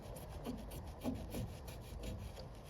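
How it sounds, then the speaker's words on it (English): A rag is wiped over solvent weld on plastic plumbing pipe, producing soft, steady rubbing strokes with a few slightly firmer swipes, close and quiet with no talking. "Then get yourself a rag and just wipe."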